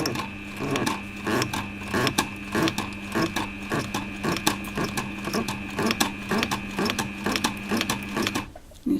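A Pfaff 1222E sewing machine stitches thick chrome-tanned leather in a steady, rapid mechanical patter, running continuously and close up, with the rhythm briefly faltering and stopping near the end.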